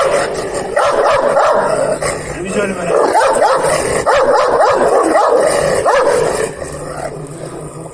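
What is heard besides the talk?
Kangal puppy growling and barking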